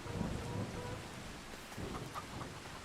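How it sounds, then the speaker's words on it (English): Hard rain with thunder in the farming video game Farming Simulator 25, a faint steady patter with soft low rumbles, quiet throughout. "Not just raining, it's raining hard. And I hear thunder."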